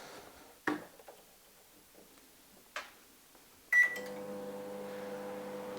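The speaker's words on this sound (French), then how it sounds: "je viens de brancher la batterie au micro-ondes" A microwave oven powered by a Powerness Hiker U1000 power station starts up after a few faint clicks and knocks, then settles into a steady, low electrical hum.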